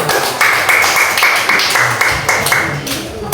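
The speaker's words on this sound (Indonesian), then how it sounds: "tepuk tangan untuk kelompok 3 nanti" A group of schoolchildren claps together in a classroom for a team, in a series of loud, evenly spaced rhythmic claps alongside some voices.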